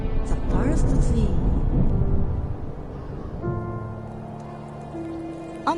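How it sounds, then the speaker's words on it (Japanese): Rain falls in The First Tree, a steady patter on surfaces that is dense and fairly loud at first and then softens. Gentle tonal game music comes in over it toward the end. "雨になった。"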